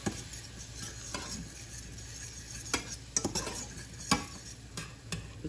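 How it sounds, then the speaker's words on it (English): A spoon stirs beef broth into a thickening paste in a pot for beef rib stew, making steady scraping and clinking strokes with a few sharper taps, close and fairly quiet over a faint sizzle. "Stir."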